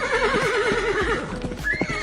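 An angry horse whinnies as a comedy sound effect. The wavering neigh is loud and close and runs the full length, with a few hoof-like knocks underneath.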